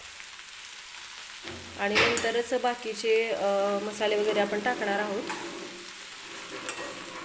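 Spring onion greens fry in a kadhai over low heat, a continuous close sizzle with scraping stirring strokes, while someone speaks over the cooking.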